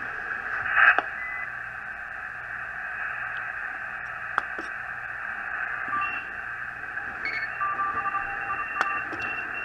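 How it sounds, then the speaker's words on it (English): Morse code CW signals on an amateur radio receiver, an Atlas RX110 retrofitted with an Arduino Nano and Si5351 tuned to a crowded contest band, come through as steady tones over continuous hiss, with short keyed beeps scattered throughout. "Loaded with CW."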